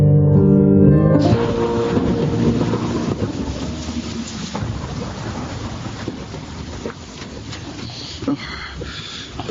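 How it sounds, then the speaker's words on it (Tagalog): Heavy rain pours down in a drama scene, a dense, steady hiss with scattered louder bursts, after a brief musical tone at the start; no speech. "Ruben, Kuya Nanding, bakit sinugod mong malakas na ulan?"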